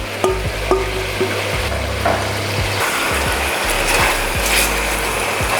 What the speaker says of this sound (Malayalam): ഈ എണ്ണയിലേക്ക് നമ്മുടെ ചിക്കൻ പീസുകൾ പിന്നെയും ഒന്നുകൂടെ ഇട്ട് കൊടുക്കാം. നമ്മൾ നേരത്തെ മാരിനേറ്റ് വെച്ച മസാലയിൽ ബാക്കിയുള്ളത് ഇതിലേക്ക് ഒഴിച്ചു കൊടുക്കാം.